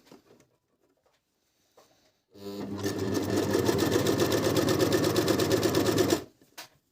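An overlock sewing machine stitches fabric in one steady, loud, rapid mechanical chatter of about four seconds, with soft handling noises just before and after.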